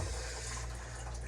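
Water rushes steadily through the cooling system of a Valkyrie being fitted with a new expansion tank after a leak, a quiet, constant flowing hiss over a low hum.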